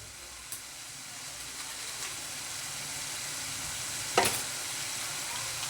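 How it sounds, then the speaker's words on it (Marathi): Spinach is stir-fried in a pan for pav bhaji, giving a soft, continuous sizzle with faint stirring scrapes and one brief louder clatter near the end. "खरपूस आपण त्याला भाजू घेऊ कारण कारण पालकचा वास गेला पाहिजे"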